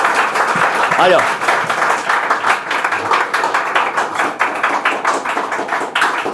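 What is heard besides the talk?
audience applause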